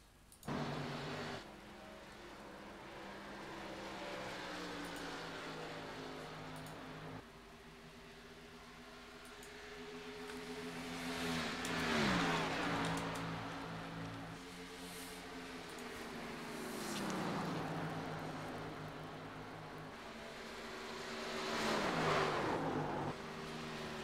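Race cars lap Charlotte during a practice session. Engines rise and fall in long sweeping passes that swell and fade every few seconds, with a steady distant drone between them and no talk.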